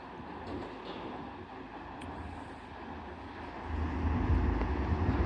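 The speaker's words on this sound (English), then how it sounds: "Departing now will be your 11:58 Transpennine Express service to Wakefield Kirkgate" A TransPennine Express train pulling out of York station, a low, steady rumble of engine and wheels that swells louder toward the end, heard from the platform with no talk.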